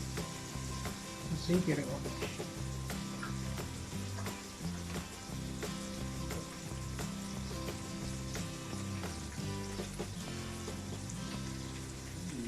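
Eggplant bharta frying in hot oil with cumin seeds, half a small onion and tomato, a steady sizzle and crackle running throughout beneath people talking.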